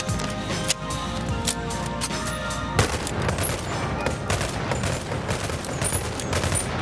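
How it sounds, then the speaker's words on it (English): Uzi submachine gun fired inside the VR game Boneworks, a dense, loud rattle of rapid automatic shots that runs almost without pause from start to finish. "you see this one sprays bullets a little bit more, so you just want to do some burst fire with that one"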